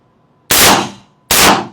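Two sharp gunshots from a handgun fitted with an optic, loud and close, about 0.8 seconds apart, each with a short decaying ring and quiet between, no talking.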